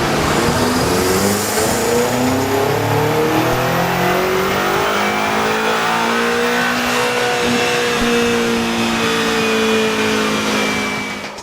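BMW M5 twin-turbo V8 run hard on a rolling road dyno, a loud, sustained engine roar that climbs steadily in pitch for about eleven seconds before cutting off abruptly. No talking.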